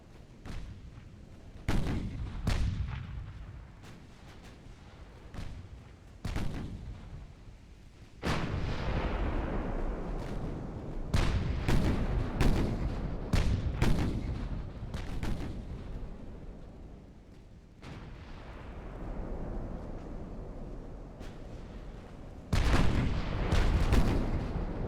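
Heavy 13-inch battleship guns fire in a naval battle in the video game Ultimate Admiral: Dreadnoughts, set in 1899 Britain versus France: a series of booming blasts at irregular intervals, some in quick clusters, each trailing a long rumbling decay.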